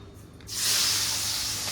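Large fresh curry leaves dropped into hot oil as tempering for dal fry, a sudden loud hiss that erupts after a quiet moment and keeps spitting steadily.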